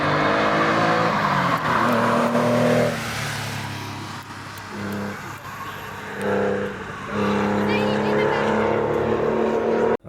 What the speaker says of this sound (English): 1984 Porsche 911 Carrera Cabriolet